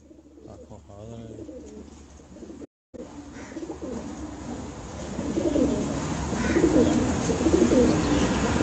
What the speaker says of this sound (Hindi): ये मलक अवाद आपको एक कबूतर दिखा रहे हैं